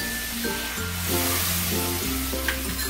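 Hilsa fish and eggplant fry in oil while being stirred, giving a dense, constant sizzling hiss with soft stirring movement and a steady tonal backing of music underneath.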